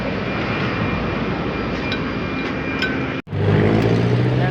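A Suzuki Ciaz engine runs with a steady, smooth, close whirring drone after a spark plug fault is fixed, dipping abruptly for an instant before resuming slightly deeper.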